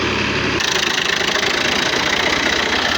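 A tractor engine runs at a steady, throbbing idle close by, loud and continuous with a slight knocking pulse and no talk.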